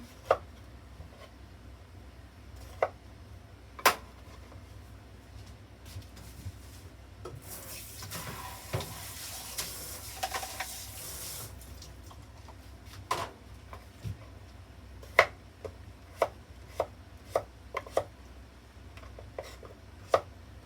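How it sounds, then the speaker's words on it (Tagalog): Sharp knife strikes on a cutting board while chopping bottle gourd, spaced irregularly, with a stretch of rustling or scraping in the middle; quiet room otherwise. "naghihiwa ng upo"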